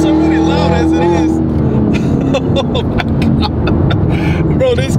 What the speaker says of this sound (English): Bro, this car is already loud as it is.